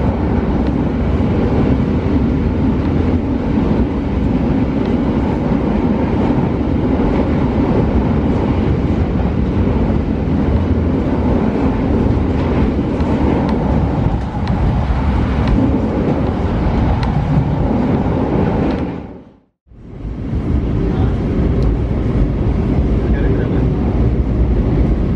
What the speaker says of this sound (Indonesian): Joglo Semarangkerto langsung menggeber dengan kecepatan rata-rata hampir sampai 100 km per jam.